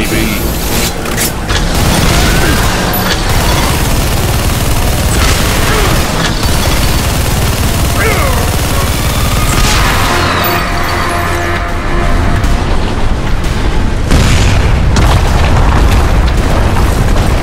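Loud, dense explosions and booming blasts in the video game Bulletstorm, a continuous heavy roar with sharper bursts near the start and end, with voices over the din.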